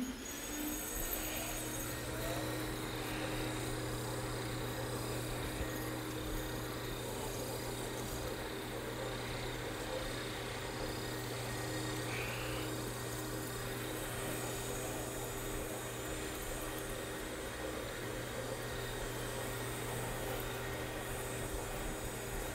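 Concrete floor polishing machine running a yellow Phoenix pad over a self-leveling polishable overlay, giving a steady, unbroken motor drone and hum at constant loudness.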